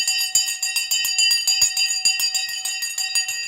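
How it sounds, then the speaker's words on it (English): A stock market opening bell rings steadily for several seconds, a bright, sustained metallic clang with rapid repeated strikes, loud and close, with no talking over it. "We're going to ring the bell."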